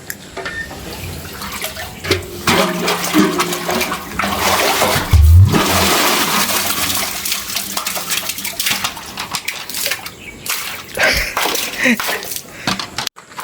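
Water splashes and pours loudly close by, a bucket drawing water from a well, filling and emptying in uneven bursts with clanking and sloshing.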